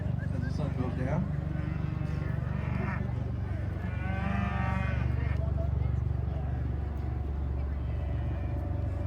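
An Angus steer at the Arizona National prospect cattle show lets out a long wavering moo amid a noisy arena, with an announcer talking over steady crowd and show ambience.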